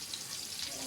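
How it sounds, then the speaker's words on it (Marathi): Chopped onion hitting hot oil in a pan, a brief dense crackling sizzle, close and soft, lasting about a second with no voice over it. "तर आता पहिलाच कांदा टाकून घेऊ."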